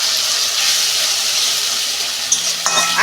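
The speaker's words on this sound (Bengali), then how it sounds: "যে মশলাটা পেস্ট করেছিলাম দিয়ে দিচ্ছি।" Ginger, garlic and coriander paste for chana dal hits a hot pan with a steady, loud broadband sizzle, and a few sharp clinks of a utensil come near the end.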